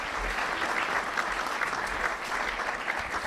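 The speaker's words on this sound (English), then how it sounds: "How about a round of applause?" Audience applause at a National Press Club luncheon, a steady, dense wash of many hands clapping that holds evenly for a few seconds with no speech over it.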